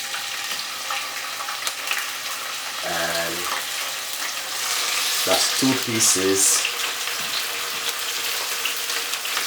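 Sliced bacon sizzling in a frying pan, a steady broadband crackle throughout that swells as more strips are laid in, with someone talking briefly over it.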